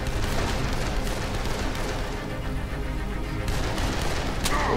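Sustained gunfire in Dead Island Definitive Edition, a dense rattling volley of shots with booming impacts that carries on throughout at steady loudness, with no talking.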